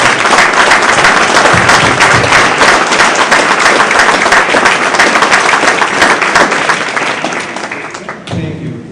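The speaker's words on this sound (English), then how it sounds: "Let's give them one round of applause." A crowd at a school district board meeting applauds retirees and award winners, loud dense clapping that holds steady, then tapers off near the end as a voice begins.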